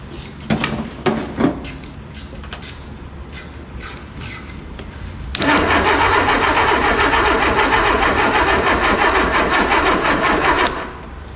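An Austin Healey Sprite engine, left sitting for 40 years, cranks loudly and steadily for about five seconds on a weak jump pack without firing, after a few short clunks and knocks.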